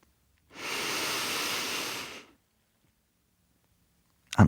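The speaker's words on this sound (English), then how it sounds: "Take a deep breath." One long, deep inhaled breath, close and clearly audible, lasting under two seconds before silence, with a small sound at the very end during a progressive muscle relaxation session.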